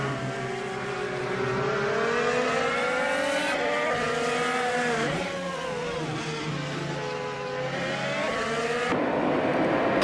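A Chevrolet IndyCar in a racing video game screams along at high revs, a loud continuous engine whine rising and falling with gear changes and shifts in pitch, joined by other cars and brief tire squeal.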